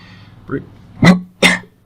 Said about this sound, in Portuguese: a gente está com resfriado, então às vezes vem uma tossinha.